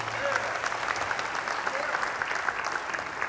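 A chapel audience at a Baylor program breaks into steady applause, a dense even patter of many hands clapping at moderate volume, held for several seconds without a break.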